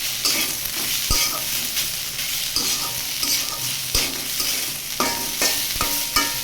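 Grated coconut is stirred continuously in a pan, a steady soft sizzle broken by regular clacks and scrapes of the spoon against the pan, close and with no talk.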